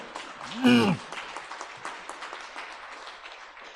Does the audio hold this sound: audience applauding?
yes